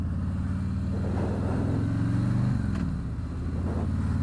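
A 2018 Harley-Davidson Street Glide with a Milwaukee-Eight V-twin pulls away, a deep loping engine rumble swelling as it accelerates, recorded up close and continuous for the whole stretch, no speech.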